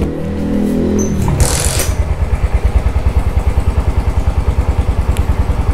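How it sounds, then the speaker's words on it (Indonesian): A Yamaha NMAX 155 scooter is kick-started during charging-regulator work. A brief cranking clatter gives way to a loud, close engine settling into a steady pulsing idle. "langsung saja kita nyalakan motornya. Yap. Sebentar saya engkol."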